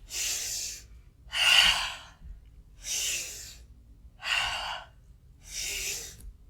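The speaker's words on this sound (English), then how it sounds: "make this more like a fire breath and make it a little faster" Five fast, forceful breath exhales of yoga fire breathing, each a loud breathy burst about a second long with short gaps between, close up and alone with no talk.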